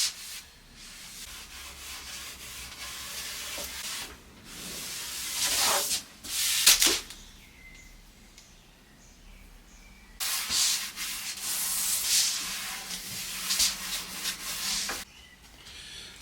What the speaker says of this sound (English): I'm just going to use some very fine steel wool just to take the rough parts off